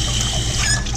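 Water runs steadily from a tap while trumpet slides are washed, a close, loud, continuous splashing rush with no speech.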